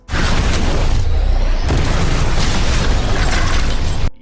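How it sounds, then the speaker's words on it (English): A film explosion fills the clip with a loud, dense, continuous roar. A second sharp burst hits partway through, and the rumble carries on unbroken until it cuts off abruptly. "Give me an explosion!"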